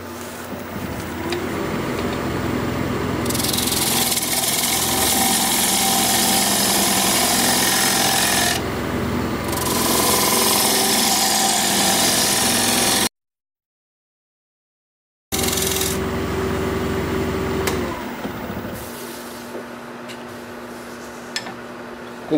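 Wood lathe turning a tenon and base on an alder bowl, a steady rough scraping hiss of the tool on spinning wood that continues, then breaks off for a couple of seconds and starts again.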